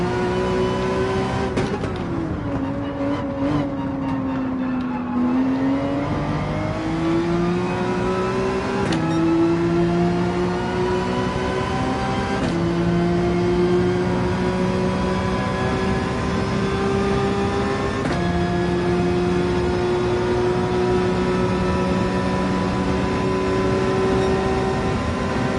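Race car engine in Gran Turismo 7 revs hard and climbs, with several distinct gear shifts marked by sudden pitch drops and rises over a sustained loud, close drone, no voices.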